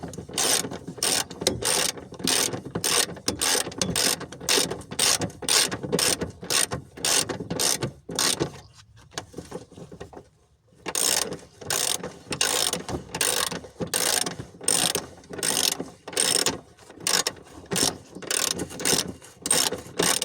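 Ratchet wrench clicking in fast steady strokes while a part on a DS 3 car is tightened, loud and close, with a brief pause midway before the rhythmic ratcheting resumes.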